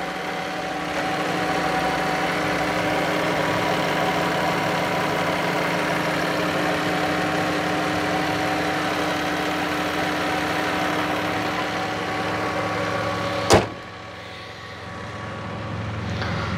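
A 2021 Ram ProMaster 2500 refrigerated van engine idles with a steady low rumble for a long stretch, then a sharp click and the hum drops lower near the end.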